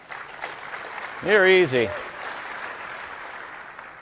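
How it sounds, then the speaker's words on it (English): A small, scattered round of applause from a conference audience at a software developer event, a steady soft patter in the background while someone speaks briefly over it. "thank you for that smattering of applause"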